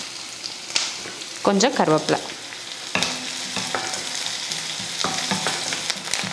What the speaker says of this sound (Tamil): அடுத்து வெங்காயம் ஒரு பெரிய வெங்காயம், இதை வதக்கிடலாம்.